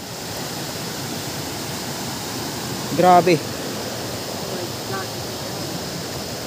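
A floodwater-swollen river rushes past in a loud, steady broadband roar that fills the whole clip, with a brief spoken exclamation near the middle.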